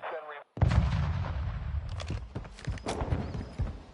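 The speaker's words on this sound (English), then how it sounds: "Hostile mortar strike incoming." Mortar strike in Call of Duty MW2, with a heavy boom and then a dense spell of rumbling blasts and clattering impacts, loud and chaotic, with voices breaking in through the barrage.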